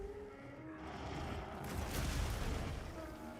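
A Dragon Explosion attack in Monster Hunter Wilds bursts into a loud, rumbling blast that swells after a quieter lead-in and rolls on with crackling booms to the end.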